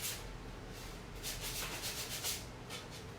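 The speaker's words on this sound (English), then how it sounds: "I'm just gonna scuff up those corners, and I really want this to be nice and old looking." Scuffing the corners of a farmhouse decor piece to make it look old, a steady close rubbing and sanding scrape running the whole time in short repeated strokes, with no talking.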